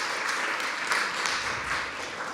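A roomful of people at a church service applaud for David, a dense, even wash of clapping heard at a moderate distance and lasting throughout.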